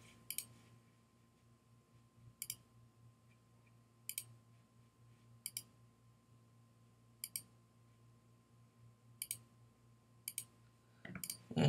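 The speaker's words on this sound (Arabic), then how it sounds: "الماوس رايت كليك رايت عشان نسوي زوم" Computer mouse right-clicks during zooming in the Mac game Contract Killer 2, a sharp double click every 1.5 to 2 seconds over a low steady electrical hum, close and fairly faint.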